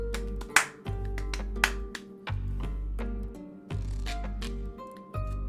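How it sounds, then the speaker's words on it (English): One person claps by hand during a game jam livestream, a few sharp separate claps spaced out over several seconds, close and dry over a steady low hum and faint background tones. "I will also do the round of applause that I said I would do"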